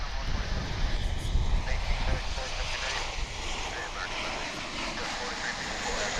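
A Boeing 777 airliner bound for Honolulu roars with a broad, steady jet-engine rush at DFW International Airport. It is heard from a distance and stays loud and sustained, with someone talking over it.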